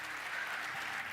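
Audience applause in a church on Christmas Sunday after thanks to a mayor, a steady dense wash of clapping filling the whole moment without pause.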